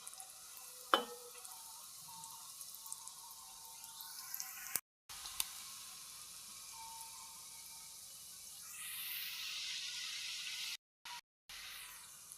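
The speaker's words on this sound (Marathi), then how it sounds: "मध्य मंद आचेवरच मी आता तळत आहे" Jaggery and sesame kapnya sweets fry in a pan over medium-low heat, giving a soft, steady sizzle with a faint hiss that swells near the end, broken by a few brief drips and clicks.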